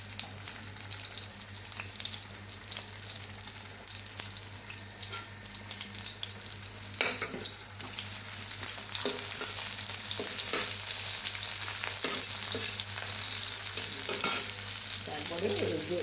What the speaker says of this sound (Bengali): তার মধ্যে আমি এই যে পেঁয়াজের স্লাইস দিয়ে দিলাম।